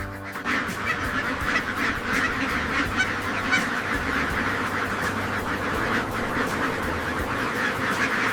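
A large flock of egg-laying ducks on an industrial farm quacks nonstop at a foraging area, a dense, loud overlapping chorus of calls close by.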